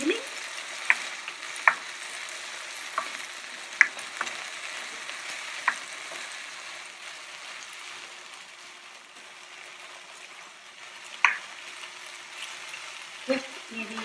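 Garlic and peas sizzling in a hot pan, a steady hiss broken by occasional sharp clinks and taps of a utensil against the pan.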